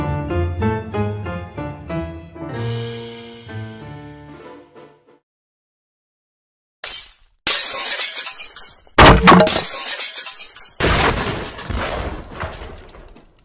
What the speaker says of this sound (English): It sounds like glass breaking again.